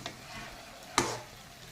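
Potato and cauliflower pieces sautéing with fried cumin, coriander and garam masala in a pan, a soft continuous sizzle broken by one sharp scrape or clatter midway, close and with no speech.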